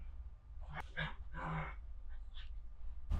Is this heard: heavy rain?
no